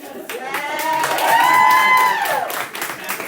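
Audience at a meeting clapping and cheering, a burst of hand claps with voices calling out and a rising whoop that swells in the middle and then fades back into scattered clapping.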